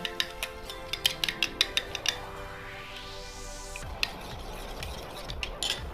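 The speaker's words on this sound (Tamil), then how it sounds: "நல்லா மிக்ஸ் பண்ணி விட்டுக்கோங்க" A homemade hair treatment mixture is stirred with a quick run of faint rhythmic taps, followed by softer, steadier mixing over a low background with a rising tone.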